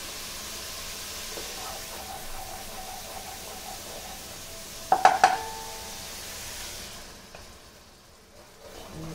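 Chicken keema frying in a pan as tomato goes in: a steady soft sizzle with a few clinks of a spoon against the pan midway, then the hiss gradually eases.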